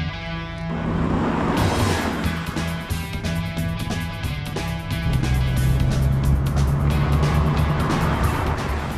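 A DeLorean with a 2.8-litre V6 driving past or along, its engine a loud, steady drone with rising harmonics after a quiet start, sustained for several seconds with no talk.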